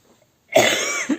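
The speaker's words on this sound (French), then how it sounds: "Excusez-moi, j'ai toussé avec la voix que j'ai." A single sharp cough close to the mic, one harsh burst with a brief rasping tail, and no talking.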